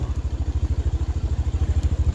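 Motorcycle engine thumping in a fast, even rhythm close by while riding on a cold mountain road toward snowy Himalayan peaks, loud and steady with no talk.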